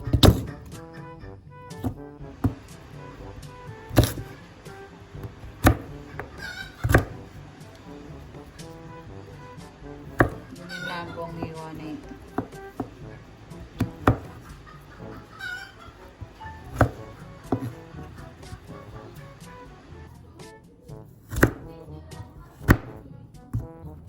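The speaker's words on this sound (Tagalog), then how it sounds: "Ayan po at ako po yung nagtatadtad na mga kadilag." Knife chopping peeled cassava on a board, with repeated sharp irregular thunks close by, mixed with kitchen clatter and faint background noise.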